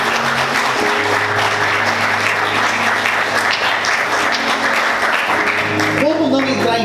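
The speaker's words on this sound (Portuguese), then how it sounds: "Você pode aplaudir o Senhor com bastante alegria." A church congregation claps loudly and continuously during a worship service, with a voice and sustained musical tones running underneath the applause.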